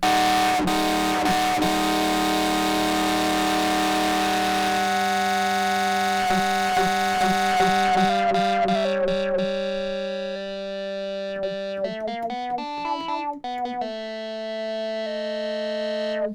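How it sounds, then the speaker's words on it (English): A harsh vintage toy synthesiser tone with heavy digital distortion holds and wails like a siren, then breaks into choppy stepping notes; loud and buzzing, with no voices. "Or you can turn it really up to make a very aggressive sound."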